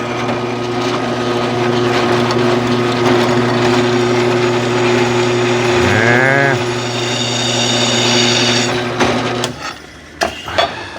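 A steady mechanical whir of a power drill drilling into a broken blower housing, running continuously for several seconds close by, with a brief pitch shift midway before it cuts off.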